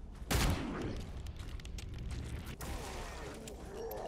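A single loud gunshot in the Evil Dead video game, with the boom decaying into a low rumble and some faint later shots under steady game background noise.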